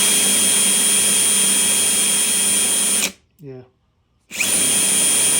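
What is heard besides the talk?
Kawasaki KZ305 motorcycle engine revving at wide open throttle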